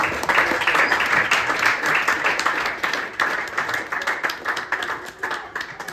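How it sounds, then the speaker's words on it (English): Loud, close applause for jazz musicians at a masterclass, many hands clapping in a dense burst with individual sharp claps standing out, continuing steadily before easing slightly. "let's give these folks a round of applause"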